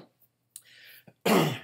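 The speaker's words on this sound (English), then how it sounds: "you clear your throat before continuing" A man clears his throat during church prayers. A short rasp is followed by a brief catch, then a loud, harsh throat clearing that lasts about half a second, close up and with no speech.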